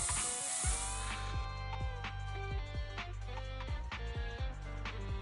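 A burst of hissing spray from the video game Zenless Zone Zero opens the scene and fades within about a second, leaving a low mechanical hum with rhythmic clicks and tones.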